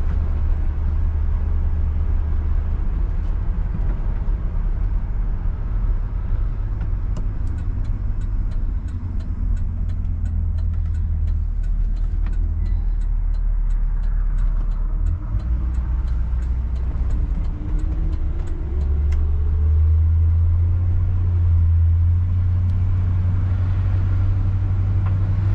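A 1966 Ford Galaxie 500 convertible cruises slowly along neighborhood streets, its engine a steady low rumble with road noise throughout, swelling briefly as it picks up speed; no one talks.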